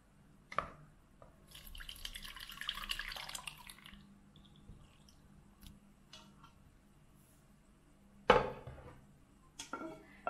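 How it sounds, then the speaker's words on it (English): Whey from homemade ricotta curds drips through cloth into a bowl in a quiet kitchen, giving faint scattered drips and trickles with a few louder clinks. "the curds are going to stay up here and the whey is going to fall down"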